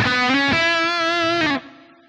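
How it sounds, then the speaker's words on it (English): An electric guitar runs through an Axe-FX III Friedman amp preset with delay and reverb blocks on, playing a sustained, slightly distorted bent note for about a second and a half before cutting off into a faint echo tail. "Now you can hear that I've got the delay block and the reverb block turned on there as well."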